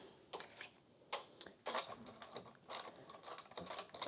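Knitting machine needles being reset before binding off a sweater, a run of close, sharp mechanical clicks and ratcheting clatters in irregular bursts, with no talk.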